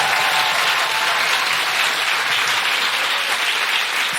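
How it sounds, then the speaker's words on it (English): Steady, dense applause from a full theatre audience at the Sam Wanamaker Playhouse, loud and continuous throughout with no voices over it. "can I just have a big round of applause to everyone here at the Sam Wanamaker?"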